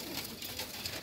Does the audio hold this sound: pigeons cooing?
yes